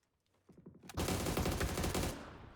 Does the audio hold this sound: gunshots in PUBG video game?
yes